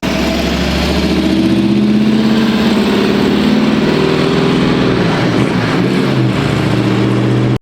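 A 1963 Chevrolet Impala SS 409 with a manual transmission runs loud and close, its V8 rumbling steadily with a throaty burble that roughens and swells briefly near the end.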